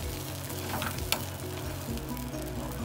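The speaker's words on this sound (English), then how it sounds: "my turkey already has butter on it, but I'm gonna go ahead and melt a little bit more" Butter melting in a pan for basting a turkey, sizzling steadily and close throughout, with a single light clink in the middle.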